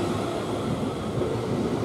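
South Western Railway Class 444 train pulling out of Cosham station toward Portsmouth Harbour, a steady rolling rumble of wheels and motors close by, continuous with no voices.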